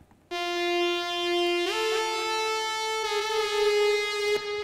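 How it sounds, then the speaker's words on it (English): A Roland Juno synthesizer sounds a spacey preset as sustained, harmonically rich tones that shift pitch twice and swell slightly, heard alone and fairly loud. "bringing in my friend the Juno DI over here."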